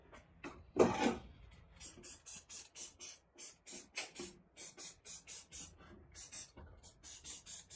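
High heat paint sprayed from an aerosol can onto a Powermaster mini starter for a Ford FE engine, a series of short rhythmic hissing bursts with brief pauses, close and moderately loud.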